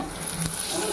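Chicken pieces fry in a pot with a dense, close sizzle and a quick stirring scrape partway through, one short continuous burst.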